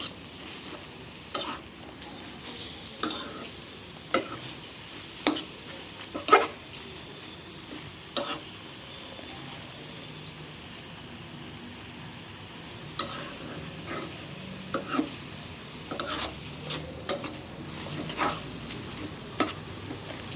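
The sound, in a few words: stirring teasel gourd leaves frying in oil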